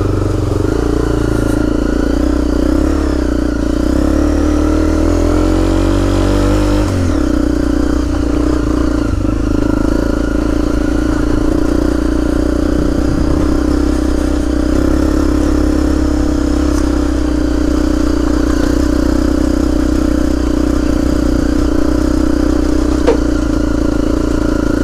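Honda CRF250L dirt bike engine ridden off-road in first gear, a loud continuous single-cylinder drone that rises in pitch early on, then settles into a steady, rough mid-range run with clattering, close to the rider.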